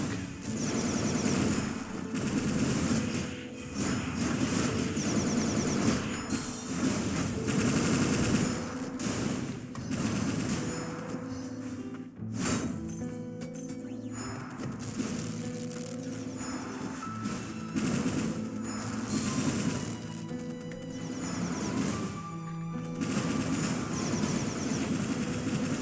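Rapid gunfire from the Ender Magnolia video game, dense bursts of shots fired point blank at an enemy, loud and nearly continuous with brief gaps, layered over a droning game soundtrack.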